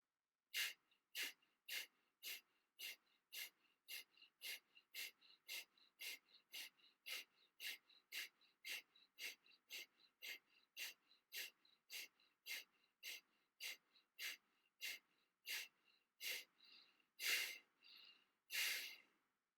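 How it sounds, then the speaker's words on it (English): Rapid, rhythmic breaths during yoga, some thirty short sharp puffs through the nose in steady succession, quiet and close, ending with two longer, deeper breaths. "deep inhale, long exhale, inhaling"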